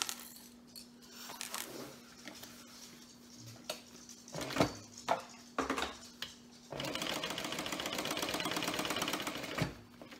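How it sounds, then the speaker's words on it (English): A sewing machine top stitching fabric, starting and stopping with short bursts before settling into a steady, continuous rattling run of stitches, with small clicks and a faint electrical hum underneath. "I'm going to start stitching here."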